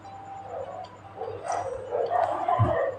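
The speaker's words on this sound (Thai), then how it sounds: "น้องหมาเห่าแล้ว" A dog barks a few times in short, yelping bursts at moderate distance, with no talk over it.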